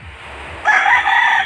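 A fighting-breed rooster, one of three cocks kept on a mountainside farm, gives a single loud crow that bursts in partway through and holds steady to the end, close by, with no talking.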